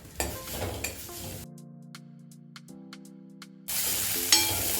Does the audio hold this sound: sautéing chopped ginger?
yes